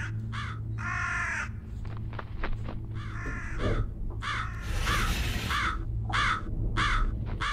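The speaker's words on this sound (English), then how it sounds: "Annoying ass bird." A crow caws repeatedly in a Japanese found-footage horror video game, the harsh calls coming in irregular bursts over a steady low ambient drone, fairly loud and close.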